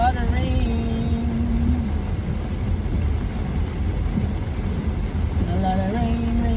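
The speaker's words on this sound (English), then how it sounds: "I said the rain is falling." Heavy rain pours steadily in Fort Lauderdale, a dense continuous hiss with traffic rumbling under it, while tonal voice sounds drift in and out over the downpour.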